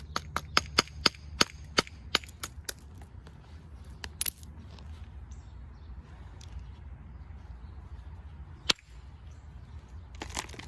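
A big bobber strikes a green flint boulder, sharp stone-on-stone clicks coming in a quick run of about a dozen, then a lull and a couple of isolated hits near the end, close and crisp.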